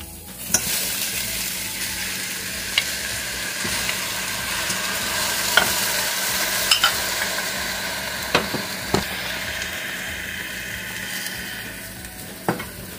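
Chicken and onion frying in a pan for a chicken tinola, a continuous close hiss of oil with sharp scattered clicks and scrapes as the pieces are stirred at irregular intervals.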